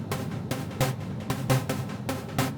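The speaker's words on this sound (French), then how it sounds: "il y a cet effet de pompe, en gros, qui est très utilisé dans la trance pour donner du groove." A trance track with a sidechain pumping effect, its full-band music swelling and ducking in a regular rhythmic pulse several times across the short excerpt, heard alone without any talk.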